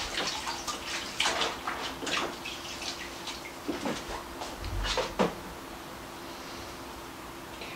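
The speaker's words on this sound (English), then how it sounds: "Just let me wash my hands." Hands being washed under a running kitchen tap, with soft steady water flow, splashes and a few clattering knocks, then the water fading near the end.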